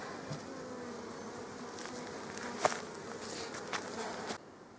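A steady, low insect buzz hums throughout, like many bees droning together close by, with a brief louder flare midway before it drops slightly near the end.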